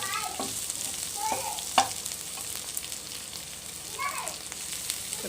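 Onions sautéing in a pan for a squid curry: a steady, moderate sizzle with a few sharp stirring scrapes, and a faint voice now and then in the background.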